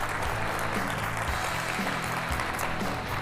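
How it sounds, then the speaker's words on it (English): Applause from a conference audience at a telecom industry event, a dense, steady wash of clapping filling the whole stretch at fairly strong level. "let's make sure that this round of applause is the loudest"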